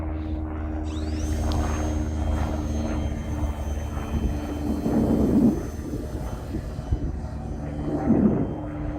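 A Durafly Tundra V2 RC model airplane flies overhead, its steady electric motor and propeller drone humming continuously at moderate distance, swelling louder in two brief passes.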